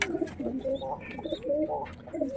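Soft, murmuring coos from several pigeons, including black Lotan and check satin birds, kept in a loft, overlapping continuously at close range with faint rustling in the background.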